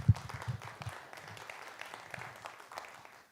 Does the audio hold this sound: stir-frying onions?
no